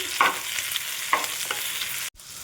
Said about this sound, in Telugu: వేసుకుని ఒక నిమిషం ఫ్రై చేసుకోవాలి